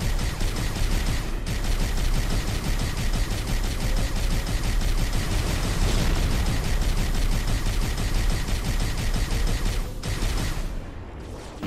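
Gunfire from the video game Halo, rapid sustained shots in dense bursts with a brief gap near the start and another near the end, loud and continuous.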